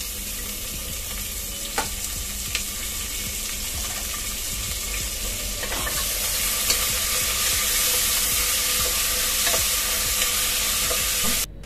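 Onion and tomato sizzle steadily in a hot pan with spices, cinnamon and bay leaves, for a soyabean biryani. A constant close frying hiss grows slightly louder partway through, with faint stirring clicks and no talking.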